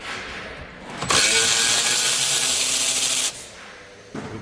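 A ratchet wrench spins in one loud, fast burst lasting about two seconds as a bolt comes off a Ford Ranger rear brake, followed by a few softer metallic clicks.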